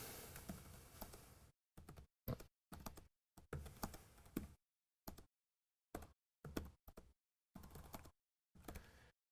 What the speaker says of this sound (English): I'm going to type a commit message here.